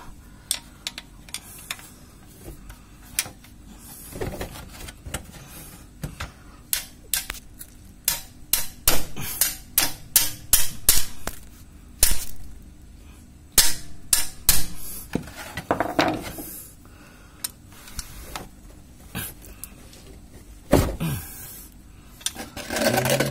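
Sharp metallic hammer strikes ring out in irregular bursts, sometimes rapid clusters, sometimes single blows, fairly close with quiet pauses between, as a tight transmission drain plug on a Daihatsu Ayla is hammered loose.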